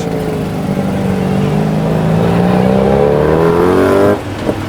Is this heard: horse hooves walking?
no